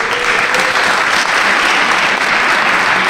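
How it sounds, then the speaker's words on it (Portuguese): Dense, sustained applause from a congregation at a pastors' retreat in Brazil, many hands clapping in a continuous even roar with no voices over it. "Por gentileza, uma salva de palmas"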